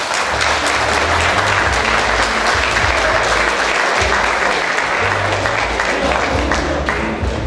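A large audience at an ACP 45th anniversary tribute gives Lélio Robe, a former Vila Nova athlete, a warm, continuous round of applause, with dense clapping that stays strong and even from start to finish.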